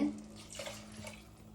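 Plain water pours softly and steadily into a pot of mutton biryani, a faint trickling splash with a low hum underneath.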